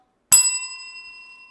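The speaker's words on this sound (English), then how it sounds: "Here's the bell." A single bright bell strike marks the end of a round, sharp and close after a moment of silence, then a clear metallic ring that slowly decays, with no talk.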